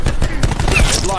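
A nine-bang grenade in a video game erupts as a rapid, loud string of close sharp bangs packed into about a second, with faint voice chatter underneath.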